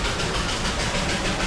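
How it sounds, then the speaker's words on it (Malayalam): The Darjeeling Himalayan steam toy train running along the roadside makes a continuous moderate rumble and clatter, fairly close by, with no voices over it. "കാരണം റോഡിൻ്റെ സൈഡിലൂടെ ഇതുപോലെ ഇറക്കി ട്രെയിൻ പോകുന്നത് നമ്മളങ്ങനെ കണ്ടിട്ടുണ്ടാവില്ല."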